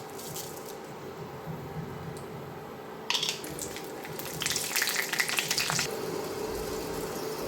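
Black cumin seeds fry in hot oil while hilsa fish is being cooked, a steady bubbling sizzle that swells into a brighter crackle midway before settling back, with no one talking.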